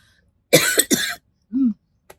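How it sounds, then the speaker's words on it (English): A person coughs twice, a close, harsh pair of bursts in quick succession, then follows with a brief throaty sound and a tiny click in an otherwise quiet room. "it wasn't this that made me cough"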